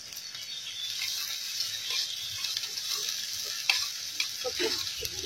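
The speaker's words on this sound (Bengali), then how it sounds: "লবণ দিয়ে দেওয়া হচ্ছে পেঁয়াজ টমেটো গুলো তাড়াতাড়ি ভাজার জন্য।" Onions and tomatoes frying in a pan with salt, a steady close sizzle and crackle throughout with light stirring scrapes and a couple of sharper pops near the end.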